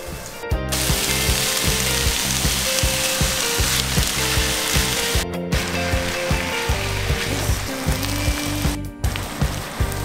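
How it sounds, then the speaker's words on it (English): Minced meat browning with softened onions in a pan for pastitsio, a steady broad sizzle running throughout with a regular pulsing thump beneath it. "once your onions are ready, you want to put in your minced meat to brown"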